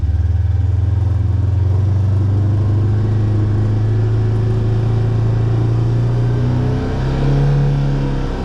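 A Polaris RZR XP side-by-side drives slowly in four-wheel drive at full steering lock, its engine a loud, close, steady drone that rises in pitch near the end.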